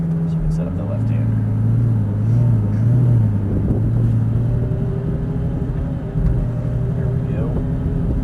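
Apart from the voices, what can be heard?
Lamborghini pulling away in first gear on airport track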